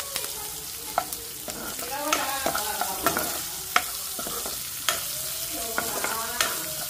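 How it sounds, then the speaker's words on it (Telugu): Onions and green chillies frying in a pan for a cluster bean curry, with a steady sizzle broken by repeated scrapes and clinks of a spoon stirring them, close by and without talk. "ఇప్పుడు నేను ఆనియన్స్ను పచ్చిమిర్చి వేస్తున్నాను. ఇది కొంచెం ఎర్రగా వేగాలి"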